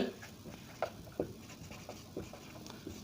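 Quiet, scratchy strokes of writing on a board or paper during a class 9 maths lesson, faint and irregular, with short marks coming and going over a soft room hiss.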